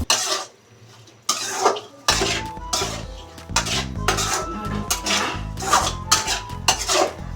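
Spicy chili chicken stirred in a wide frying pan, with repeated metallic scraping and clanking of a spatula against the pan, loud and close, in bursts after a brief quiet start.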